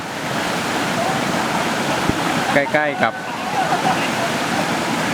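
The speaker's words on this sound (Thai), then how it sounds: "อยู่ใกล้กับลำธาร" Flowing stream beside a village at Khiri Wong in Nakhon Si Thammarat, Thailand: a steady, fairly loud rush of water runs throughout, with a brief spoken phrase over it midway.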